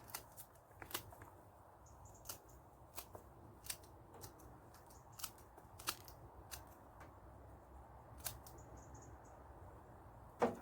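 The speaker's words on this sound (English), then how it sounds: "So we're just going to cut off the fruits." Scissors snip chilli fruits off a potted chilli plant, a string of sharp, faint clicks spaced irregularly over quiet background, close to the microphone.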